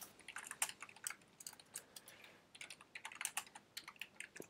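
Keys clatter on a computer keyboard while a C++ program is written. The typing is quiet and close, coming in quick irregular bursts with a short pause near the middle, and no one speaks.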